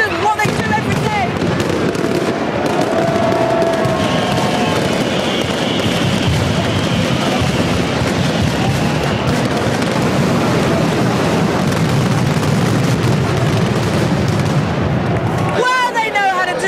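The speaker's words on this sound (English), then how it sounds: "We felt the fireworks" Fireworks go off in Valencia, Spain, during a daytime celebration, a dense, very loud, continuous barrage of crackling bangs and booms lasting the whole stretch, with a voice heard among them.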